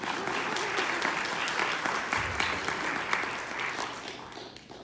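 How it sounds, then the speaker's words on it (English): Audience applause at a Providence District Democrats candidate forum in Fairfax fills the room as steady, dense clapping, loud and continuous for about five seconds before easing off at the end. "You can applaud if you want."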